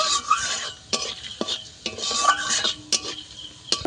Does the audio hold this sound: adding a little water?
no